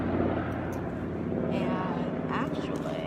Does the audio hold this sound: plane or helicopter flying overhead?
yes